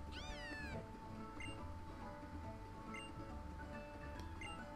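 Cry of the fire-cat Pokémon Litten from a Pokémon game, a short rising, warbling electronic meow at the start, followed by faint ticking clicks over a low, steady game music bed.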